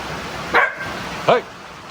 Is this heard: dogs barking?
yes